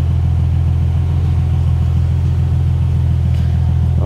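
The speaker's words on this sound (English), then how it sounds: "sorry about the car engine being on" A Nissan 370Z engine idling nearby, a loud, steady low rumble that holds constant with no revving, and no talk.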